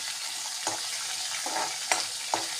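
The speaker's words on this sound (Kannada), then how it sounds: "ಸರಿಯಾಗಿ ಫ್ರೈ ಆಗಲಿ." Chopped green chillies fry in a pan for cabbage gojju, a continuous close sizzle broken by a few sharp stirring scrapes and knocks of the spoon against the pan.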